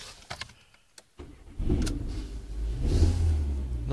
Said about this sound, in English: So if I switch the engine on